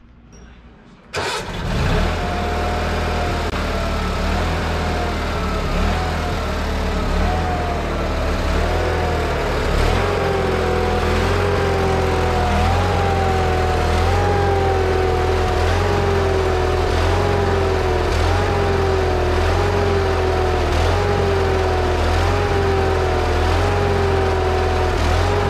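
A small engine, freshly refilled with gas and fitted with its air filter, catches and then runs steadily, loud and close, with a wavering idle that rises and falls in pitch for the rest of the time.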